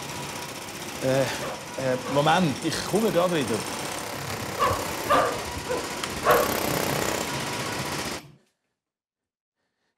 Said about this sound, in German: Oh, jetzt haben wir die Baustelle.